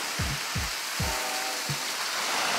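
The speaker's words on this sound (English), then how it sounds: "But it's raining outside, so we're a bit trapped in at the moment." Rain falls outside a camper van parked on the Spanish coast, a steady hiss of drops on the roof and surroundings, with several low thumps in the first seconds.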